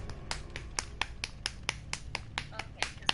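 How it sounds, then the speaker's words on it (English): Sharp hand claps and snaps ring out in a quick irregular series of about a dozen crisp hits, close to the microphone, with some talking between them. "ASMR clap for you."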